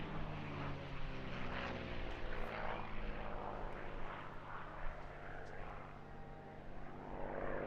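WWII fighter, a P-47, flying at the Eastbourne International Airshow with a steady, loud propeller engine drone that holds throughout, slightly rising and falling as it passes, with no talk over it.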